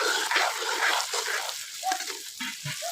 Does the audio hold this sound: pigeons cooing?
no